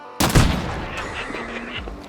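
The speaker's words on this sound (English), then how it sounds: "the explosion from the explosive ammo" Explosive ammunition going off in the video game Hunt: Showdown, a sharp loud blast at the start followed by a rumbling, crackling decay with scattered game noises trailing after it.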